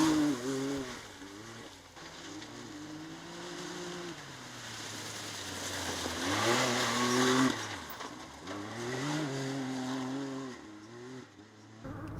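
A Cosworth-powered Peugeot rally car is driven on a rally stage at Walters Arena. Its engine revs rise and fall through repeated gear changes at moderate distance, with a swell of louder noise midway.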